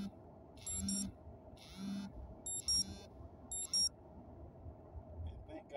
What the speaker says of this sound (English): That's one of my alarms, make sure I'm not messing around.